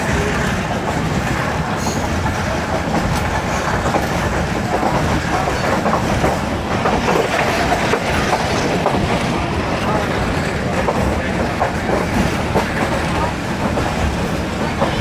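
The Jand shuttle train rolls through mountains and valleys with a steady, loud rumble and rhythmic clickety-clack of wheels on rails, heard from on board throughout.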